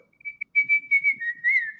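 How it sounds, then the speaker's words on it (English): A person whistles a short melodic phrase, clear and close, with a few quick notes followed by a longer sliding tone. "Listen to what I can whistle."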